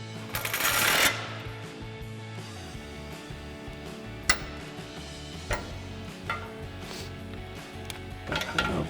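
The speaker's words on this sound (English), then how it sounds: "grab our provided Allen wrench and our 17mm socket on our impact. Go ahead and tighten these up" An impact wrench with a 17mm socket hammers bumper bolts tight on a 2021-2023 Ford Bronco, one loud rattling burst of about a second, then scattered clicks and tool knocks.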